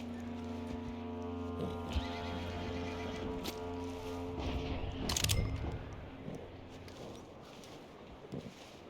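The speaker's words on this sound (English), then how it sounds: "Where's the horse still freaking out?" A horse in Red Dead Redemption 2 whinnies and snorts amid clip-clopping hooves and steady snowy background ambience, the loudest whinny coming midway.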